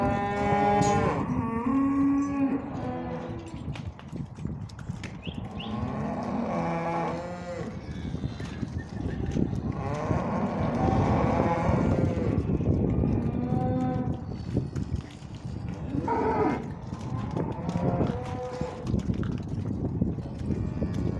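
Cattle and calves bawl and moo loudly during fence line weaning, with many overlapping, drawn-out calls near and far that keep coming throughout and have little break between them.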